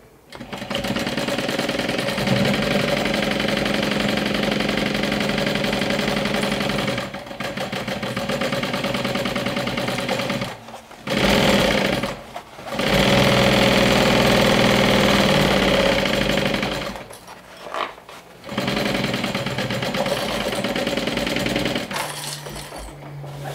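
A sewing machine stitches a bag gusset for a saddle-shaped crossbody bag, running in long steady buzzing bursts with brief stops and restarts, loud and close, no voices.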